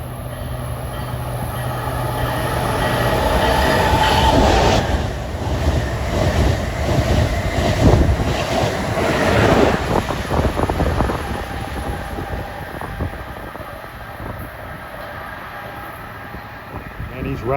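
Amtrak Acela Express train 2173, bound for New York, rumbles past a Boston-area station with a loud, sustained roar and rattling wheels that fade gradually toward the end.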